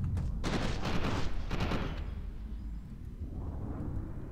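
Grenade blasts in the shooter game F.E.A.R. 2: Project Origin: a burst of loud, dense explosive crackle and rumble that fades into a lingering low roar, with no talking.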